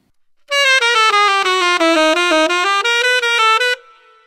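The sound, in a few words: saxophone lick, first segment played faster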